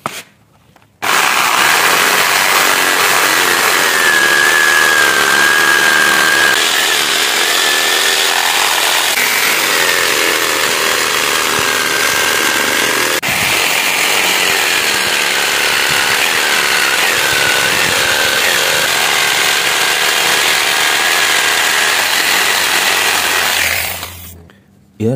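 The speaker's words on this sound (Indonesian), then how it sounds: "Ini kita potong jigsaw, langsung saja kita potong." A jigsaw cuts through scrap wood, a loud continuous buzzing saw drone lasting about twenty-three seconds with slight shifts in pitch as the blade works, starting and stopping abruptly.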